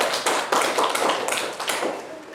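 Hands clap in a quick burst of distinct, irregular claps, fairly close, from a small group in a classroom setting, fading slightly at the end.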